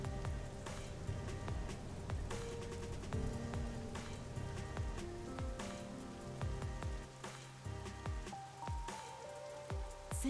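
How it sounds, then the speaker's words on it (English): Rain falls steadily in the detective game Master Detective Archives: Rain Code, a quiet continuous patter of drops layered over a soft musical backdrop of sustained and plucked notes. "Rain, I guess."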